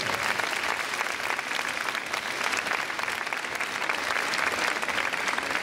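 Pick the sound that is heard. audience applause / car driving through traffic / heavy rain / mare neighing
audience applause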